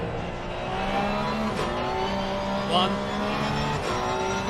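A Porsche 911 GT3 race car engine in the racing game Assetto Corsa Competizione at Suzuka revs and drops through gears in quick downshifts, steady and loud, with a brief spoken word over it.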